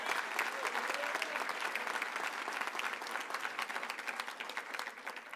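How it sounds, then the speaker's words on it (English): A commencement audience applauds graduates at a college ceremony, a sustained, dense crowd clapping at moderate volume from start to finish. "Please join me in a round of applause for Jacob and Richard"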